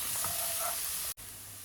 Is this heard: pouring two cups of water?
no